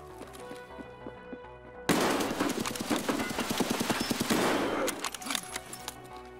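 Rapid gunfire in Escape From Tarkov erupts after a quiet stretch, a sustained rattling volley of fast, sharp shots lasting several seconds before dropping back to scattered, fainter reports.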